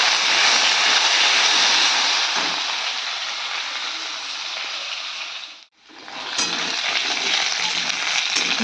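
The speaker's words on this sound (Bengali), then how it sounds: "এবার আমি এই যে সজনে শাকটা দিয়ে দিই, দুটো লঙ্কা দিয়ে দিচ্ছি, বেশি ঝাল দেবো না, একটু ভাজা" Drumstick leaves and green chillies fry in hot oil in a kadai alongside papaya and potato, a loud, close, continuous sizzle that fades and then briefly cuts out before the crackle returns.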